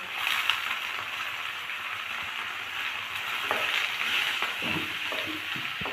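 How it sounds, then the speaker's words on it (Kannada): Onions frying in hot oil for avalakki (poha), a steady bright sizzle that fills the whole stretch with occasional stirring scrapes and crackles, close and even, with no talking. "ಈರುಳ್ಳಿನ ಹಾಕ್ತಾ ಇದ್ದೀವಿ ಇದನ್ನು ಆಯಿಲಲ್ಲಿ ಚೆನ್ನಾಗಿ ಸ್ವಲ್ಪ ಫ್ರೈ ಮಾಡ್ಕೊಳ್ಳೋಣ"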